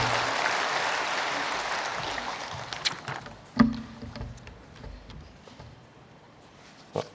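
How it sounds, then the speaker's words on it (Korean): A church congregation applauds in a broad wash of clapping that slowly fades, leaving scattered claps and small knocks and shuffles in a quieter room. "우리 천국 가족이 어떻게 되는지 박수 한번 드리십시다."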